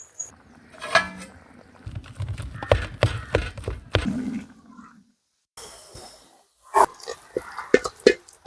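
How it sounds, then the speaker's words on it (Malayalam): A thick kappa biryani mix of tapioca, Kerala style, boils hard in a pot, throwing out irregular thick plops and bubbling bursts at close range, with a brief quiet break partway through. "നമ്മുടെ അടിപൊളിയായിട്ട് വെട്ടി തിളയ്ക്കുന്നുണ്ട്."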